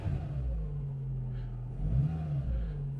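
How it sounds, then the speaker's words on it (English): A locksmith van's small 1.4-litre engine revs up briefly from idle, a low throbbing rumble that swells and rises in pitch around midway before settling back, heard close and alone. "I'll give it a rev."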